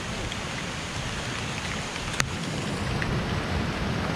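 Heavy rain falls steadily in Bondla Wildlife Sanctuary, Goa, a dense, even roar of drops with one brief sharp click partway through.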